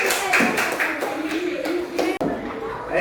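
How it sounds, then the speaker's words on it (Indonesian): Schoolchildren applauding in an elementary school classroom, a burst of lively clapping with scattered sharp taps, mixed with children's voices and chatter throughout. "Tepuk tangan yang meriah"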